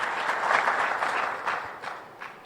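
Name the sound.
audience applause for the Finance Minister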